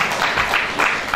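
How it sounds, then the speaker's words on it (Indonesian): Audience applause at a university anniversary and hospital emergency and inpatient ward grand opening, a steady wash of many hands clapping together throughout, with no voices over it. "Mungkin kita aplaus untuk Dr."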